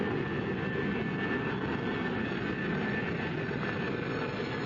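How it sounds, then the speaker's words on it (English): An airplane takes off with a steady, loud, muffled engine roar that holds evenly throughout, with no voices over it. "Be advised you are now cleared for takeoff."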